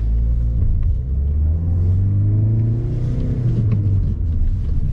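A manual transmission car's engine revs hard while driving, a loud continuous rumble with the engine note climbing and falling as the throttle is pressed, heard close inside the car with no voices.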